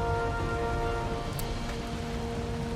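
Steady rain pours in the video game Valheim while at sea, a dense continuous wash of noise with an even loudness throughout and no voices.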